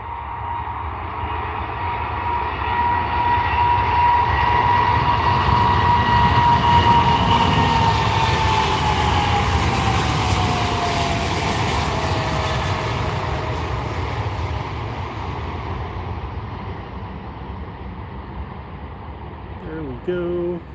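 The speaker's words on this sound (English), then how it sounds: "Just watch the takeoff before you leave." An airliner takes off at Ted Stevens Anchorage airport. Its jet engine roar builds into a loud, sustained rumble and whine that peaks midway, then slowly fades as the plane climbs away.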